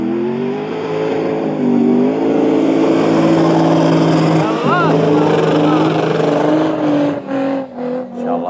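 A car engine revs hard and strains as it climbs a sand dune. The loud engine note rises and falls through shifting pitches, with voices talking over it and brief dips near the end.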